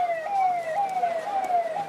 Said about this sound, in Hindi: एम्बुलेंस को साइड दे दो।